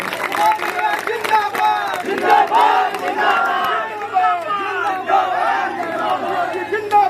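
A large crowd cheers and shouts loudly for several seconds at a political rally, with scattered clapping mixed into the roar.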